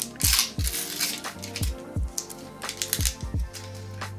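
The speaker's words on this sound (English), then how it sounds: "Let's unwrap it so we can get the look of it." Packaging of a new MacBook Air M2 laptop is unwrapped up close, with crisp crinkling and rustling bursts and repeated thumps and taps as the material is pulled and handled.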